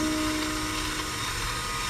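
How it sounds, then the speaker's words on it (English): A stand mixer whisks egg whites until foamy for a pandan gula melaka and cheese Castella cake, giving a steady, fairly loud motor whir with a constant hum that runs unbroken and alone. "with the stand mixer, right, you can let it do the egg white"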